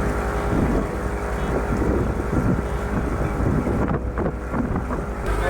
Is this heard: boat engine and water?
yes